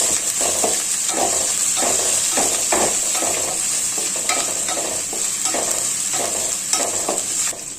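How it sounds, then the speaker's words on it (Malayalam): Ginger, garlic and coconut pieces sautéed in a pan for duck roast, loud steady sizzling with rhythmic stirring scrapes repeating every half second or so. "അതിന് നല്ലപോലെ ഇളക്കി കൊടുത്ത് അത് മൂപ്പിച്ച് വഴറ്റി അങ്ങോട്ട് കൊടുക്കും"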